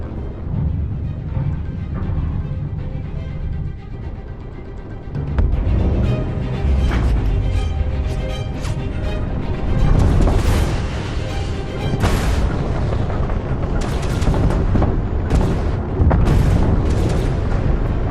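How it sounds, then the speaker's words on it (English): Spaceship in the Starfield video game booming and thudding, heavy deep mechanical impacts and rumbling bursts over a loud, dense engine drone, with sharp hits repeating in the second half. "It almost sounds like a submarine, with loud bows and deep mechanical thuds."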